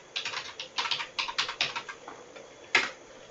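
Quick bursts of typing on a computer keyboard, close and fairly quiet, ending with a single sharper key press.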